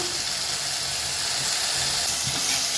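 Onions and tomatoes sautéing in a pan give a continuous, even sizzle with a soft hiss, moderately close and unbroken, with no one talking.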